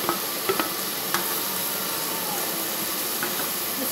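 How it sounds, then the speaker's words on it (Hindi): Beetroot halwa with ghee-fried dry fruits being stirred in a hot pan, a constant close hiss and sizzle broken by a few soft scraping taps of the spoon, with no voices. "हिला लेंगे, अच्छी तरीके से चला लेंगे।"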